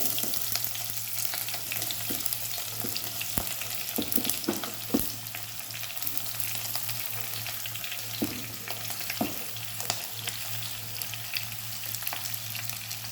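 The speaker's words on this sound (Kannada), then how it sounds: "ಸಾಸಿವೆ ಜೀರಿಗೆ ಎರಡು ಚಟಪಟ ಆದಮೇಲೆ ಆನಿಯನ್ ಹಾಕಲಿಕ್ಕೆ" Onions frying in hot oil after mustard seeds and cumin have spluttered, a steady close sizzle with occasional sharp pops and crackles running throughout, no voices.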